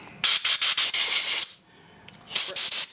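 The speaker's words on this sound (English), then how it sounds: "I just used the regular old spray intake cleaner and shot it in everywhere" Loud hissing bursts of aerosol intake cleaner sprayed into a 1980 Evinrude 35 HP outboard motor, several short pulses then a long blast, a brief pause, then more quick sprays close by.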